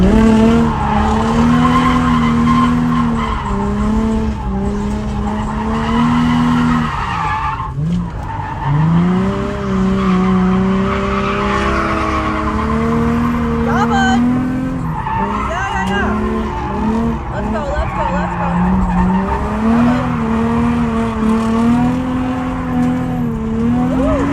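A car drifts around a track at a drift event with long, loud wavering tire squeals over a droning engine, close and continuous throughout, with a brief dip as the slide breaks and resumes.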